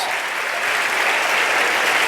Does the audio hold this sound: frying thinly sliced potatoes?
no